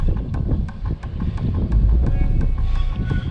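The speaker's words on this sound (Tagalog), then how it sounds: "Lakas pa ng hangin." Strong wind gusting high up on an elevated climb, a steady loud roar with low buffeting rumble and repeated bursts across the mic.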